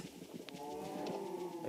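Cows in the Minecraft video game give a drawn-out, low, droning moo that swells after a soft start and holds steady at moderate volume, with no voices.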